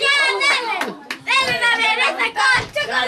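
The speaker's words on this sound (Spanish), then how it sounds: "un aplauso al alto" Quick clapping at a twelfth birthday party rattles along under loud, excited children's and adults' voices cheering close by, in bursts with brief pauses.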